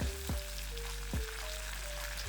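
Steady sizzling of curry leaves and chillies in hot oil in a pan, with a few sharp crackles and pops, close and continuous, no voices.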